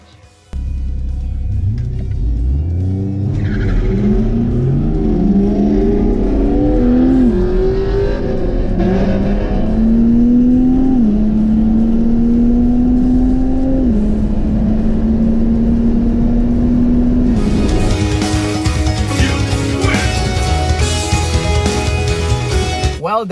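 A V8 drift car and a 500hp drag car race side by side: a loud engine roar revs up through a series of gear shifts with stepped pitch climbs, and a harsher burst near the end.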